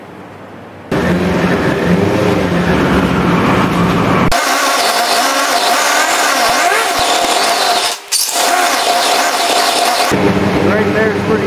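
A Yamaha YZF R6 motorcycle engine idles steadily during a two-bottle carburetor sync, a continuous loud, close drone with one brief dip partway through and a voice talking over it.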